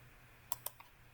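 A few quiet taps on a computer keyboard, two or three keystrokes in quick succession against a steady low hum.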